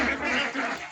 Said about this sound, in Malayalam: ഇപ്പം നമ്മൾ താറാവുകൾക്ക് തീറ്റ കൊടുക്കുകയാണ്